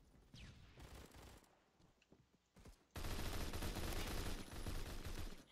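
An HK21 machine gun in the Roblox shooter Phantom Forces fires scattered shots, then a long, loud, continuous burst of automatic fire.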